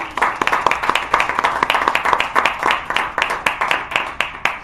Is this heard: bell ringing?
no